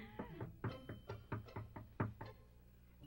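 Someone raps repeatedly on a door, about a dozen sharp, close knocks in an uneven, insistent rhythm that trails off toward the end.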